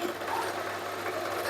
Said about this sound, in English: I'm just going to backwards and forwards again just to machine the back out up to that marking outline